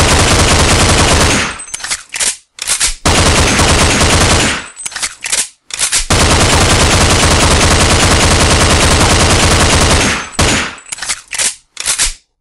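An IMI Uzi submachine gun firing in a Half-Life mod game, long loud bursts of rapid automatic fire broken by a few short bursts and brief silent gaps, close and dominant.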